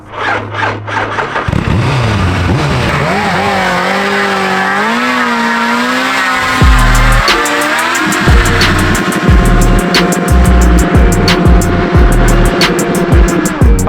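A Suzuki Hayabusa motorcycle engine, set up for off-road riding, revs up and holds, then hits the rev limiter in a series of rapid choppy stutters, loud and close, with no talk.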